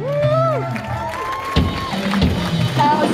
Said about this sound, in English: Give Houseboat a round of applause.